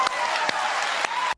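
A short burst of applause from a crowd, steady clapping for about a second before cutting off abruptly.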